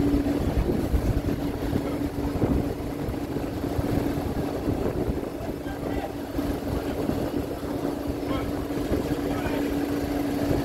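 A vehicle ferry crossing from Barra to Banjul port in The Gambia gives a steady, loud engine drone with a constant low hum throughout, and faint voices mix into the rumble.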